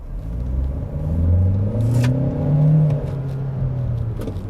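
An Opel Insignia accelerating hard, its engine note rising from a low rumble and sweeping upward through gear changes, loud and steady throughout with no talking.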